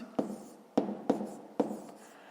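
Numbers being written during a fifth-grade math lesson: four quiet, separate scratchy strokes spaced about half a second apart, close by, with no talking.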